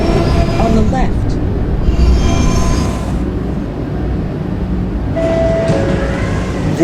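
A PST-2R B train in a video game runs along the track with a continuous rumble and wheel noise, rising and easing as it moves, with a brief high squeal near the end.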